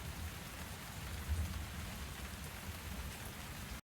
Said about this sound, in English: It's raining, super cozy.